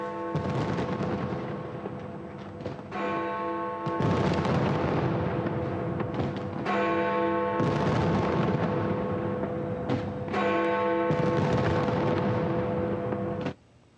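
New Year fireworks over the River Thames in London boom in a loud, dense barrage of blasts and crackle, with several short gaps between bursts before stopping abruptly.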